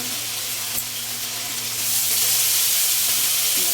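Pepper rice frying in a pan sizzles loudly as soy sauce is poured in, the steady hiss swelling stronger partway through, with a brief clink near the start.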